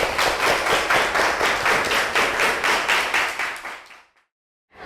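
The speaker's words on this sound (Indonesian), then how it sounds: "Tepuk tangan untuk kita semua." A group claps together at a school project event, loud rhythmic rounds of near clapping that pulse steadily for about four seconds, then stop abruptly into silence.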